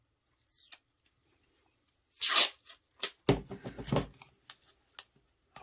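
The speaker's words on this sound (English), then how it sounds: "take my piece of masking tape" Masking tape torn from a roll in a workshop while preparing a Stuart S50 steam engine part, heard as a few short, close ripping and crackling bursts with quiet pauses between them, no talking.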